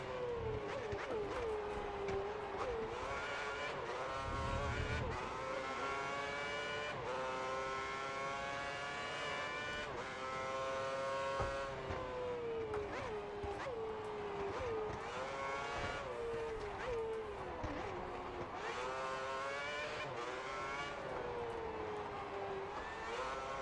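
Formula 1 race cars in the video game F1 2010 at the Turkish Grand Prix, their engines screaming loudly and continuously with rising and falling pitch through gear changes, with no talk.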